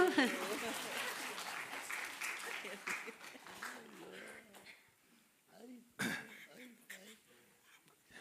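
A short round of clapping at a family gathering amid a children's song, starting loud and thinning out into scattered claps, mixed with coughs, throat clearing and a few voices in the room.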